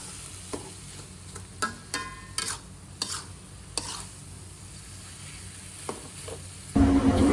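Pork and radish stir-fried in a pan: a low frying sizzle broken by irregular scraping and clinking strokes of a utensil, close, with a louder burst at the end and no talk.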